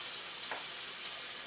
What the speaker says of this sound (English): now this is really sizzling